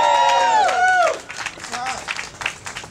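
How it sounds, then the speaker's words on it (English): At a rally, a crowd applauds a speaker, opening with loud voiced whoops and cheers that fade after about a second into scattered, uneven clapping from the gathering. "Give him a round of applause."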